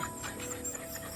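Several dogs panting, a quick steady rhythm of soft breathy huffs, close and fairly quiet with no talk.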